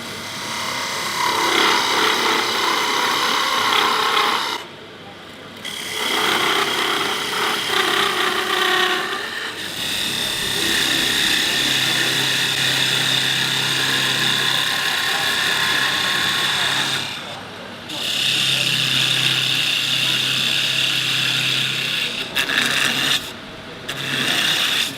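A parting tool cuts into wood spinning on a lathe while a Scottish stirring stick is turned, giving a steady, loud rasping scrape that runs nearly continuously with a few short pauses.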